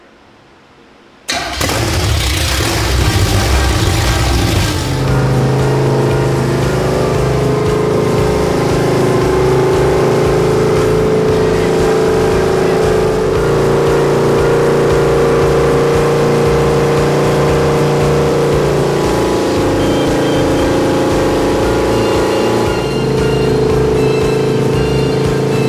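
A car engine with a freshly primed carburetor cranks, catches and fires up loudly, then settles into a steady, rough running drone close by for the rest of the clip.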